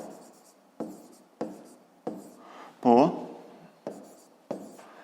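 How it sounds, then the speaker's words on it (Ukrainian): Writing during a maths lesson comes through as regular, crisp strokes repeating about every half second, close to the microphone, with a brief voice cutting in midway. "Давайте я напишу S."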